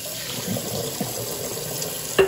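Tap water runs steadily into a kitchen sink while glass jars are rinsed out, a continuous soft splashing at close range with a brief louder clatter near the end.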